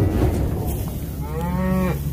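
Cattle low loudly outdoors while being moved to new pasture, one long, nearby moo rising clearly over a steady background of wind and farm noise.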